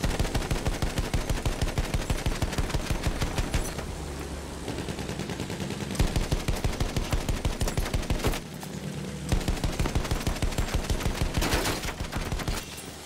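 Rapid machine-gun fire in the Battlefield 1 video game, Sinai desert setting with an attack plane, loud sustained bursts of rhythmic shots with brief pauses between strings, close and dominant with no talk.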